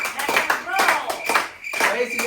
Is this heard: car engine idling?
no